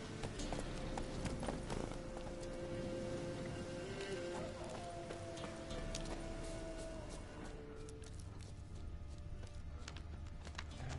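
Horse hooves clip-clop steadily at a trot in The Witcher video game, a continuous rhythmic clatter at moderate level alongside faint game ambience and tonal hums.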